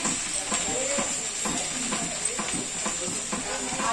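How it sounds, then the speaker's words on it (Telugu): Sliced okra frying in a pan after salt is added, a continuous sizzle and hiss with periodic scraping stirs, while a person talks over the cooking. "బెండకాయ అయితే వేగేయండి కొంచెం సాల్ట్ వేసుకున్నాము"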